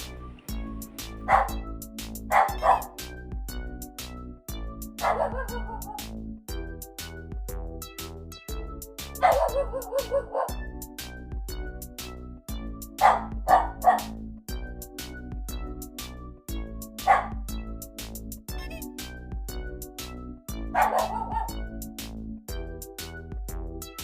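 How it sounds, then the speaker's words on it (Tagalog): Dogs bark and yip in short, repeated bursts over steady background music, sounding playful and fairly close. "makita mo lang yung mga aso mong ganyan naglalaro sa harapan mo"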